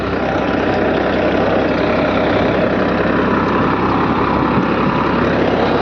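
A tractor engine runs steadily while pulling through a hard, dry field, giving a loud, continuous low drone with a broad mechanical roar that holds without a break and has no voices over it.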